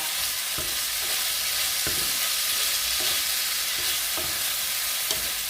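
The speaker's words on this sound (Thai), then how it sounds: "แล้วก็ผัดให้เข้ากันนะคะ" Shrimp and garlic stir-fry in a hot pan, giving a loud, continuous sizzle with faint scraping stirs now and then, close up and without voices.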